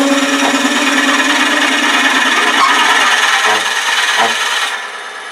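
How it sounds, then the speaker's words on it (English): A drill bores into a turned wooden pencil pot spinning slowly on a lathe, a steady close grinding rasp with slight scraping variations that eases off near the end. "We're not going to drill very far."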